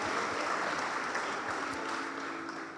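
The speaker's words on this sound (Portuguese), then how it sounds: "Aplauda o nome do Senhor." A church congregation applauding during a worship service, continuous broad clapping with a faint sustained tone beneath it, fairly even and moderately loud, tapering slightly near the end.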